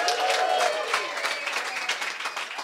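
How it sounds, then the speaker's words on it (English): A crowd applauds steadily, a dense wash of many hands clapping at once, fairly close and sustained throughout without pause. "Let's give one more round of applause for the guys from Vinomofo."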